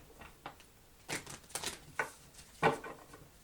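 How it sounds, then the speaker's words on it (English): Tarot cards being shuffled upside down, giving a few soft, papery riffling bursts spread irregularly through a quiet stretch, close and faint, with no talking. "They shuffle a little bit better when I do them upside down."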